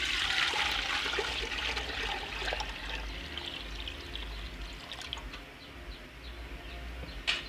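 Water poured from a container into a pressure cooker set on a wood-fired stove while cooking goat trotters, a steady splashing pour that runs for several seconds and gradually thins out, recorded close by with no talk.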